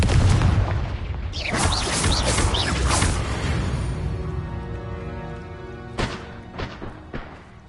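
A Confringo fire-blast spell in a Hogwarts video game bursts with a loud booming explosion, followed by crackling, whooshing debris that fades into a rumble, with a few sharp thuds near the end.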